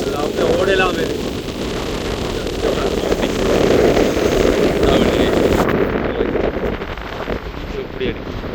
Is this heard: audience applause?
no